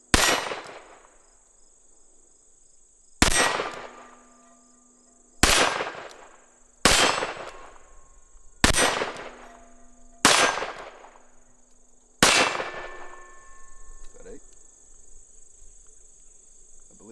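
Seven sharp gunshots ring out from a Taurus .22 Magnum revolver, spaced one to three seconds apart, each a loud crack with a short ringing decay, while steady insect chirping continues in the background.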